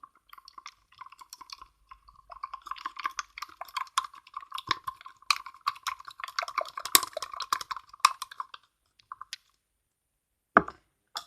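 Homemade slime ingredients being stirred and mixed, giving a run of quick close-up sticky clicks and squelches in an irregular rhythm, then a brief pause and a last couple of taps.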